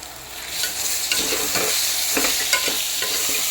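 Tomatoes with turmeric fry in a pan for a toor dal mutton curry, a steady broadband sizzle broken by repeated scraping strokes of a stirring spoon, close and fairly loud with no talk.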